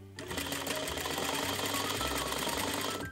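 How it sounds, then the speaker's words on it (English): A sewing machine running a basting stitch around the edge of a dress sleeve cap, a close, loud, steady rapid mechanical whir and needle clatter starting abruptly and continuing without pause. "Now sew a basting stitch around the entire edge of your sleeve cap in the area that is not attached to the bodice."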